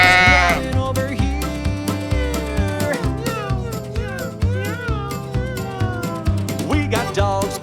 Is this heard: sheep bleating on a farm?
yes